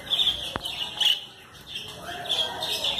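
Parakeet chicks in a nest give high, thin chirps that come in short bursts, close to the listener, with a voice speaking nearby.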